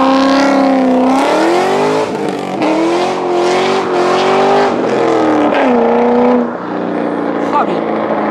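A Chevrolet Corvette C6 roars through a continuous burnout, its engine revving loud and close with rising and falling pitch and tire squeal mixed in.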